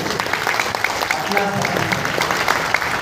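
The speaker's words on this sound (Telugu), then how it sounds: "ఒకసారి give big round of applause" An indoor training-seminar audience claps steadily and continuously, a dense close burst of applause with a voice speaking over it.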